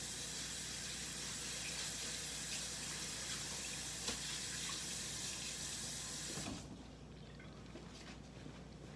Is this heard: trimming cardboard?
no